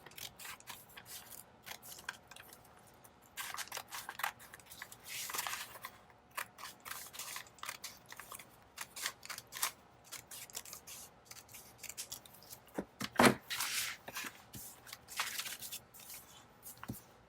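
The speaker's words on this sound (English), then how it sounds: "I need to cut this one just a little close into that one." Scissors snip through paper while cutting pieces for a handmade journal, a run of close, crisp cuts and rustles with a sharp louder snip near the end and no talk.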